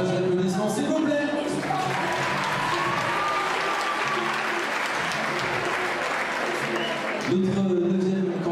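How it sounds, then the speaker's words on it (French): An audience at the Miss Saône-et-Loire pageant breaks into sustained applause, dense steady clapping that swells in the middle, with a voice over it at the start and end. "Davantage d'applaudissements, s'il vous plaît."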